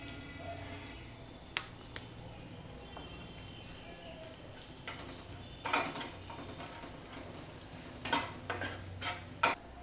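Kashmiri chilli powder and turmeric are stirred into hot frying oil for a Bengali fish curry, with a soft low sizzle and a few quick spoon scrapes and taps against the pan, close but fairly quiet.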